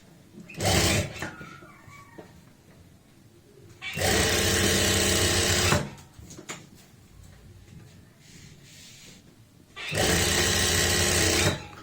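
A sewing machine stitches the lining of a shirt in three loud, steady bursts, each lasting about one to two seconds, with quieter handling and fabric shuffling between runs.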